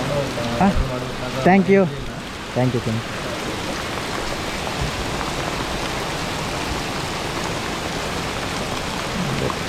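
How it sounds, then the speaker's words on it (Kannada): Heavy rain pours down in a steady, loud roaring hiss that fills the whole stretch, with a few brief spoken words near the start before the downpour continues alone. "ಸೀರಿಯಸ್ ಆಗಿ ಮಳೆ ಹೆವಿ ಹೋಯ್ತಿದೆ"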